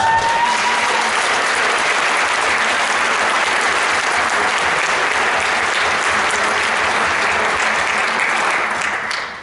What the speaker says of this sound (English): One more round of applause for those.